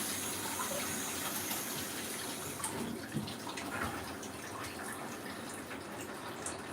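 Hot water running from a tap in a printing lab, a steady close gushing splash into a sink with small spattering variations, continuous and alone without talk.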